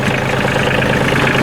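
A Kioti CK27 compact tractor's clean-burning diesel engine runs at a steady idle, loud and close, with a continuous even rumble.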